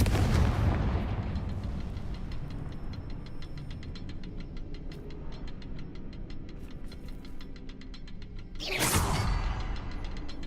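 Confringo fire spell exploding in a video game, a loud booming blast at the start that fades into a crackling, rumbling tail, then a second sharp burst near the end, with no talk.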